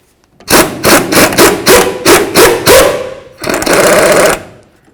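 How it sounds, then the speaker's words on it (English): A ratchet or wrench works a nut off the rear shock bolt of a 2004-08 Ford F-150, giving a quick burst of about eight sharp rasping clicks, then a longer grinding stretch, close and loud with no talk. "Use your 18mm wrench on the nut, and then a 15mm socket on the side with the bolt head."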